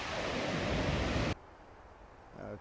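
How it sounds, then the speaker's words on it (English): Steady broadband rush of flowing water in a forest near Kootenai Falls, loud and continuous, then cutting abruptly to a much quieter hiss of distant water. "I'm hoping this picks up the beautiful, soothing sounds of flowing water"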